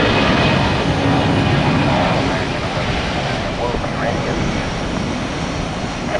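A Southwest Boeing 757 jet takes off from Atlanta's Hartsfield-Jackson airport, its engines a loud, steady broadband roar that holds for several seconds without letting up.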